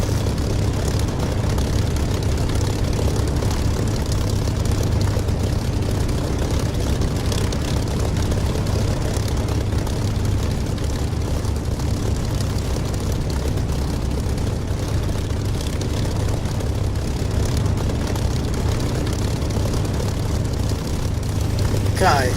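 A propeller aircraft engine idles and rumbles steadily while taxiing in the DCS flight simulator game, a loud continuous low drone throughout with engine tones and no breaks.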